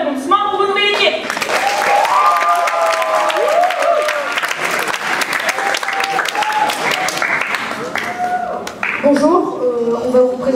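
Applause rolls through an audience at a student math conference as a new team is welcomed, steady clapping under a voice speaking and a few cheers, with the clapping continuing to the end.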